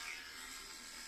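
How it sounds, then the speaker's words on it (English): An electric pet clipper trims the tail of a groomed dog, making a steady, faint, continuous buzz with no talking. "So I just come in with my clipper and I stop"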